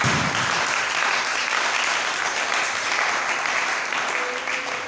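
A church congregation breaks into sustained, dense applause, loud and steady throughout with no pauses, filling the room.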